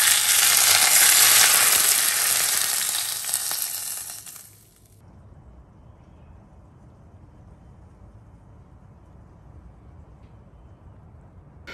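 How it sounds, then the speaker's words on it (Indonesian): Hot oil poured over spicy chili sambal with lime, a loud bright sizzle for about four seconds that fades abruptly into quiet background hiss. "Dan yang terakhir, aku siram dengan minyak panas ya."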